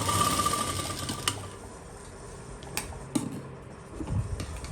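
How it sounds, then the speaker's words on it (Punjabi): A sewing machine stitches a pocket onto palazzo pants, running in a steady whirring burst that slows and then picks up again, with a few sharp mechanical clicks close by. "ਇਸ ਤਰ੍ਹਾਂ ਆਪਾਂ ਇਹ ਸਲਾਈ ਲਾ ਲੈਣੀ"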